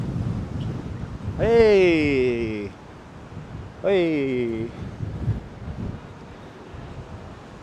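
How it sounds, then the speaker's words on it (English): Wind buffets across New York's High Line elevated park on a cold day, a low, gusty rumble against the microphone running throughout, while a man calls out a short greeting twice over it. "It is windy out here."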